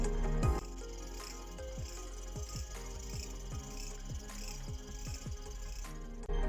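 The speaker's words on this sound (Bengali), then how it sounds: "অচেনা পোকার আওয়াজ শুনতে শুনতে অন্ধকার রাস্তা পেরিয়ে জিপসিতে উঠলাম" Unseen insects call at night along a dark road near Panchmarhi, a steady chorus of rapid, repeating chirps pulsing evenly over a constant low hum, with no voices.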